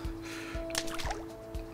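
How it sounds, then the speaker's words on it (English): Golf ball skipping twice across a water hazard in Everybody's Golf on PS4: soft splashy slaps over a steady game-music drone and faint ambience, short and quiet. "Double water skip, okay."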